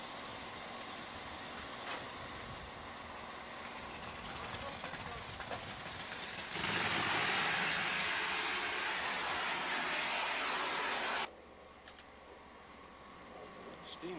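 A vintage steam engine runs quietly with a low, steady mechanical hum, broken midway by a loud sustained hiss lasting several seconds that then cuts off abruptly.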